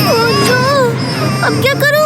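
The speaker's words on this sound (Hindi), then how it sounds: "बच्चे के रोने की आवाज कहाँ से आई?" A cartoon soft toy lets out a wavering, high baby-like wail at the start, blended with animated voices talking over it and a short exclamation near the end.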